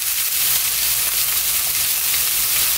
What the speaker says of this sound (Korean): 이렇게 볶아줍니다